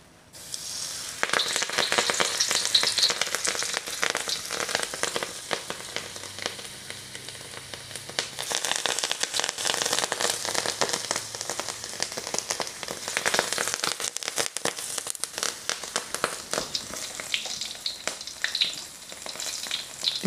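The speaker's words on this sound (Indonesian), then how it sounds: "sekarang ni saya akan salutkan dia punya bayam Brazil dengan tepung spesi tadi dan kita akan goreng dia." Brazilian spinach leaves coated in spicy flour frying in hot oil, a steady loud crackling sizzle like heavy rain that continues throughout, with occasional stirring.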